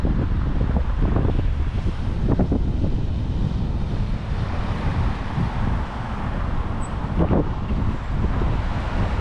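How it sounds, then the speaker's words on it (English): Waves wash onto a beach near Tarragona in Spain while strong wind buffets the microphone, producing a loud, constant roar with no voices. "So just at the bottom of the hill, about 5 minutes drive, is this beautiful beach."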